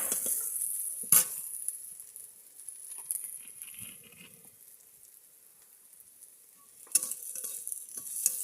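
Onions fry in a pan for a vegetarian greens dish, a faint soft sizzle broken by a few sharp utensil knocks and scrapes.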